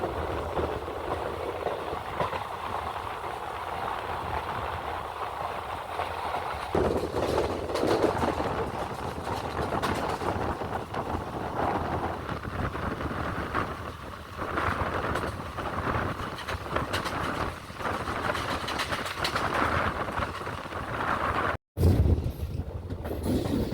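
Velankanni Express diesel train rolling slowly past Ettumanoor station in Kerala, a steady rumbling wheel-and-carriage noise with faint clatter, heard close from on board, continuous throughout with a brief sharp interruption near the end.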